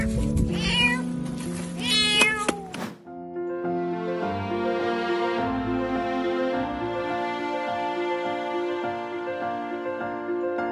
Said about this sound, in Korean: 이 일꾼들은 고양이의 무력한 울음소리를 들었고